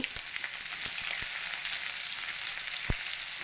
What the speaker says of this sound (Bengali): এটাকে একটু সামান্য নেড়েচেড়ে ভেজে নেব